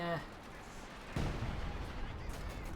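Howitzer artillery fire in Company of Heroes 2, a single faint distant boom with a rumbling tail, heard under a commentator's voice.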